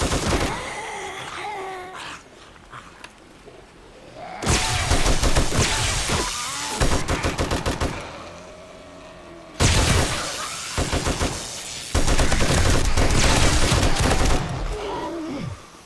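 M60 machine gun fire in the survival game 7 Days to Die: loud, close sustained bursts of rapid shots separated by short quieter gaps, with booms and groaning creatures between bursts.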